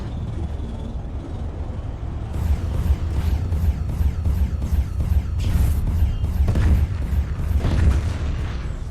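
Tank cannon fire in the online game Tanki Online: a series of heavy, booming blasts with a rumbling engine-like drone underneath, loud and close, repeating roughly every second.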